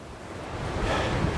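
Gusty coastal wind at Clachtoll blowing steadily across the microphone, a broad rushing roar building slightly louder toward the end, with surf-like wash mixed in and no voices.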